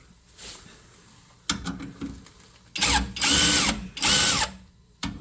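Ratchet wrench loosening the fuel tank bolts on a Suburban, bursts of fast clicking ratcheting, close and loud, with short pauses and soft handling noises between strokes.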